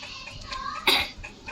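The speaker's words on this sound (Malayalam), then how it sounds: "ചുമയുണ്ട്." A single sharp cough bursts out near the middle, close and fairly loud, against a quiet, slightly noisy room.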